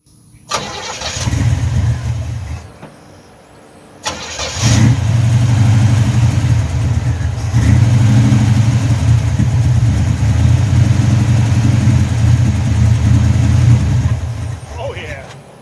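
An Oldsmobile car engine cranks and catches briefly, drops back, then starts again and settles into a loud, steady idle close by. The car had just been topped up with transmission fluid.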